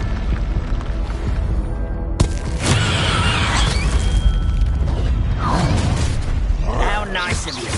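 Confringo blast spell from Hogwarts Legacy, a sudden loud burst followed by crackling, crashing debris and whooshing effects over a dense game mix, with a voice calling out briefly.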